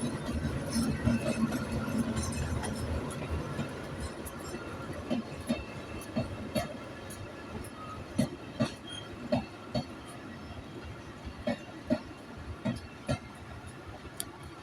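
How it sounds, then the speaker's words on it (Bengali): The Tungipara Express, an eight-carriage intercity train bound for Rajshahi, passes in foggy early morning: a steady rumble and hiss builds into loud, rhythmic clickety-clack as the wheels hit rail joints close by. "এই যে আপনারা দেখতে পাচ্ছেন এখন যাচ্ছে হলো রাজশাহীর ট্রেন"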